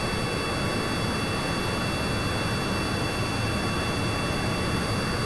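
Whiplash jet engines on a spaceplane in Kerbal Space Program, flying very fast through thin atmosphere, give a steady, unbroken, hissing roar with no variation and no voices.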